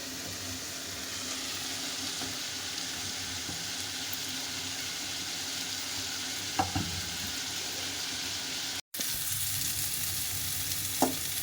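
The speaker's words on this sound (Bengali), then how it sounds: "সমস্ত সবজিগুলোকে ভেজে নিচ্ছি" Mixed vegetables frying in a pan for Maggi noodles, a steady, close sizzling hiss throughout with a couple of faint clinks and a brief cut in the sound near the end.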